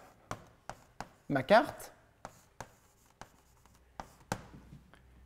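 Pen or chalk writing a short notation, a few sparse taps and strokes spaced about a second apart, with a brief spoken phrase in the middle.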